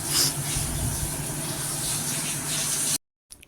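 Fish frying in a pan gives off a steady broadband hiss and crackle of hot oil. It continues unbroken for about three seconds and then cuts off.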